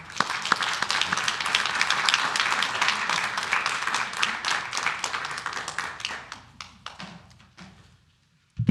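Audience applause fills a Santa Ana city council chamber for the Indigenous Women's Rising group, dense steady clapping that thins into a few scattered claps and fades to near silence, with little talk.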